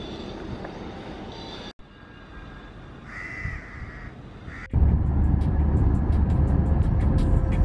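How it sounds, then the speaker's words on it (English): Noisy birds, apparently crows, caw harshly in the open air near the Sultan's palace in Muscat, Oman, against a steady rumble of traffic or wind that grows louder toward the end. "Angry, noisy birds."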